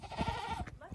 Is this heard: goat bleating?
yes